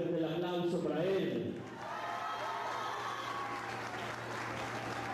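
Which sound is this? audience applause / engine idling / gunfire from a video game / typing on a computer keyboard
audience applause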